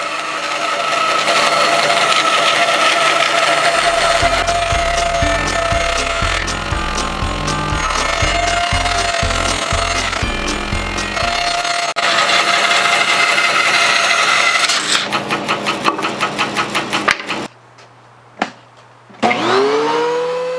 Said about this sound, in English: Now back to the bandsaw to take a little thickness out of this board. This is called resawing.